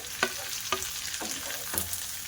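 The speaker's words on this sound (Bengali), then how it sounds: "এবার বেশ ভালো করে মিশিয়ে নেব আলুর সঙ্গে উচ্ছের সঙ্গে" A spatula scrapes and stirs fried potatoes and bitter gourd in a pan, with several distinct strokes over a soft, steady frying sizzle.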